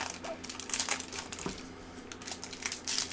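Hockey card foil packs are torn open and crinkled by hand close up, with busy crackling and rustling that comes in short uneven bursts over about three seconds.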